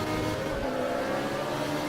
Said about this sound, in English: This time we are on board with the V8, which sounds surprisingly familiar, doesn't it?